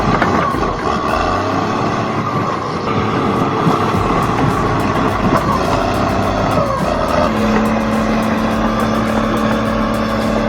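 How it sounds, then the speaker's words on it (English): A Caterpillar D11R bulldozer crawls over frozen, icy ground, giving a steady, loud, rumbling engine drone with mechanical clatter throughout, and a sustained tone emerging in the latter half. "Watch as this caterpillar dozer fights its way across frozen terrain, gripping the slippery surface with calculated force."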